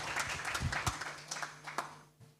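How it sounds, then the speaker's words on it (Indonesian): An audience at an Islamic state university presentation in Jakarta claps in a short, moderate burst of applause that fades out within a couple of seconds. "Tepuk tangan dulu dong untuk UIN Jakarta."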